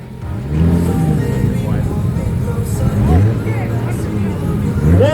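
Toyota Supra engine revving at a two-step contest, a loud rising and falling roar close by with crowd chatter and shouting underneath throughout.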